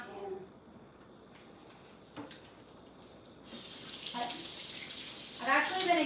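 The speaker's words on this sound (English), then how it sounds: "Just gonna wash my hands." Hands are washed under a running tap, water spattering onto the hands and sink after a quiet start, soft and close, with faint handling noises.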